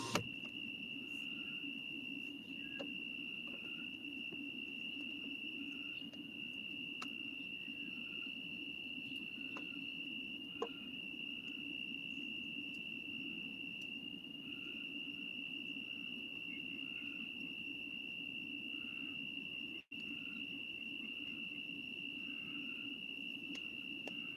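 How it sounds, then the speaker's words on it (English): A steady nighttime chorus of frogs near a zoo, a continuous high trilling drone with a low rumbling bed beneath, holding evenly throughout at moderate distance with no voices. "And the frogs here. You can hear the frogs too."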